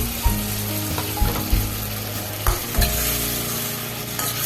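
Ginger, garlic and green chili paste fries loudly in hot oil in a ghugni pot, a dense continuous sizzle punctuated by several scraping stirs of the spoon, with no voices.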